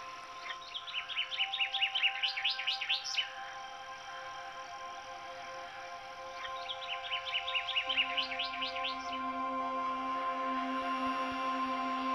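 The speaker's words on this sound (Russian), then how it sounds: "Как круто, птицы запели." Birdsong in the mobile game Deep Town: two bursts of quick, rising chirping trills separated by a pause, heard over a steady electronic hum and low drone.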